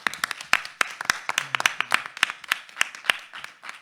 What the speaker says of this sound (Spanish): despedir con un aplauso.